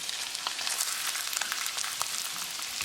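Salmon fries in butter with garlic in a pan, a dense, even sizzle with crackling pops running steadily throughout, close and moderately loud with no talk.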